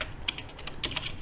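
Quick, light clicks of typing on a computer keyboard, a handful of close keystrokes in an irregular patter with no talking.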